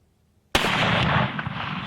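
A single sharp muzzleloader rifle shot cracks out during a hunt after a quiet pause, followed by a loud booming decay that rolls on for over a second.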